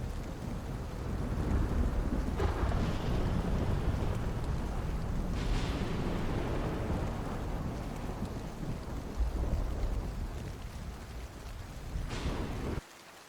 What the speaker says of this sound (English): how is the thunder?